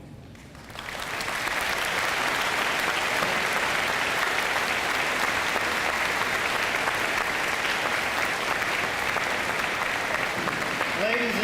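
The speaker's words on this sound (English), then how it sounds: "let's give all these veterans one more round of applause" A large crowd applauds Vietnam veterans at a school Veterans Day ceremony, starting with a faint lead-in and swelling into loud, sustained clapping that fills the hall and continues steadily to the end.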